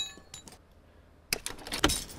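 An air filter cover clicked into place during a car engine repair in Car Mechanic Simulator 2015, a short burst of metallic clinks and rattles near the end, preceded by faint soft ticks and quiet background.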